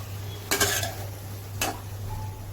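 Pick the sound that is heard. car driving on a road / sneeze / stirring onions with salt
stirring onions with salt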